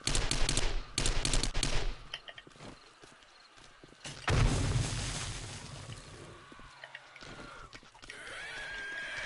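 Rapid gunfire from the survival game 7 Days to Die, bursts of shots at the start and again midway, alongside fast in-game movement and combat noise against a feral zombie and a spider, with no talk.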